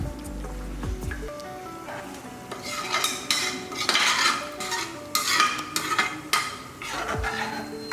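Water poured into a pan and stirred while cooking a sprouted horse gram dish, with scraping, clinking utensil strokes and wet splashy stirring sounds in irregular bursts, no talking.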